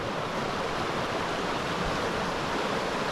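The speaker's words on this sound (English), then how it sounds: "Got a real good flow in the river." Steady rushing water of the Hoh River in Olympic National Park, a dense continuous roar with no pauses and no voices.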